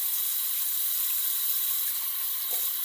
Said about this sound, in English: rinse off my brush